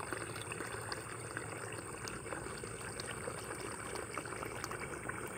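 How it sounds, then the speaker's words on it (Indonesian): A swift stream of water runs through a rice field behind a mosque complex in Kapuas, giving a steady, close rushing and trickling flow with no voices. "Jadi kita lihat air itu mengalir dari tempat lain ini menuju ke sini. Nah, ini kita lihat alirannya cukup deras."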